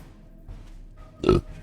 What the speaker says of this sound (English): these hiccups are awful